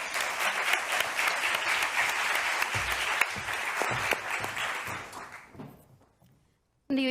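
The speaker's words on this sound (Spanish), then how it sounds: "Bienvenidos y un gran aplauso para todos ellos." Conference audience applauding panelists at a round-table session on equality in project management, steady loud clapping with a few sharp claps that fades out over several seconds before a brief new sound starts.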